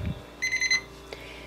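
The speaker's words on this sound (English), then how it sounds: "I don't hear it beeping over and over and over and over and over again" An oven's temperature alarm, set around 230 to 255 degrees for decarboxylating cannabis, beeps in a short burst of about four quick, clear electronic tones, loud and close, with no talking.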